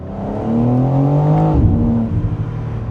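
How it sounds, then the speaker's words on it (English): A BMW M4 Convertible engine pulls hard with a rising, loud growl, drops sharply at an upshift about halfway through, then climbs again with a gruffer tone and some crackle. "Whenever you upshift while accelerating hard, it sounds like there's some sort of explosion going on behind you."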